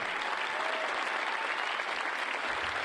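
A large crowd applauds at the DEF CON hacking conference closing ceremonies, a continuous, even roar of clapping heard from a distance.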